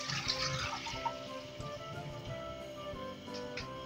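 Chilled water taken from the freezer pours steadily into a container for a vanilla cappuccino, a soft, close, continuous trickle and splash lasting a few seconds with faint background noise.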